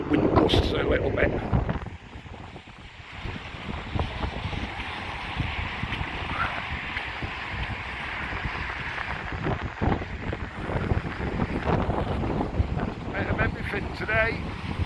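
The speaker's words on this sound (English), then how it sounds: "that is a bit nippy when that wind gusts a little bit." Wind gusting on the Blackpool seafront at North Prom in snow and rain, loud buffeting against the microphone that dips briefly, then rumbles on steadily.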